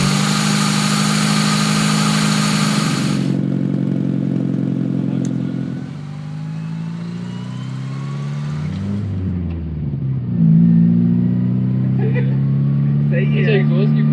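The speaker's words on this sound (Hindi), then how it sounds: "एग्जॉस्ट की बहुत ज़्यादा आवाज़ है अभी भी।" Datsun 120Y idling with a new HKS exhaust including a large 4-inch outlet: a loud, steady low rumble that shifts in tone partway through, then settles into a deeper, throbbing idle.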